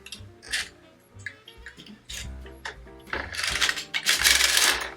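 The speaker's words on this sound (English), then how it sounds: "This is what it looks like when you drop a stitch on the circular sock machine." A circular sock knitting machine is cranked by hand, giving a run of clicking, ratcheting mechanical clatter with metallic ticks and small thumps, close and uneven, growing busier and louder toward the end with no talking.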